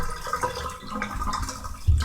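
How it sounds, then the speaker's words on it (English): Water running and draining in a tub being refilled while washing dirty wool, a steady close splashing flow with a louder gush near the end. "this is how I fill the tub back up"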